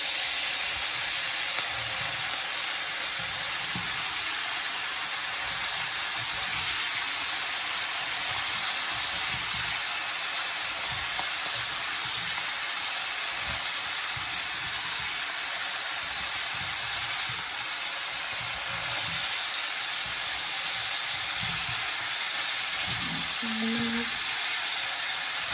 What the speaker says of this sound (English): I'm putting in the water, and then just gonna make it steam.